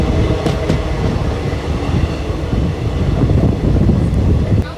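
A train creeping slowly along the curving Londa to Belgaum line in monsoon, a loud, continuous rumble of wheels and carriages heard from on board, with faint rattles and clacks in the steady roar.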